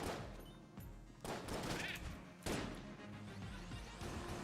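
Dense bursts of gunfire and explosions ring out in the video game Enter the Gungeon, a rapid, crackling barrage with heavy booms at regular intervals, continuous and fairly loud throughout.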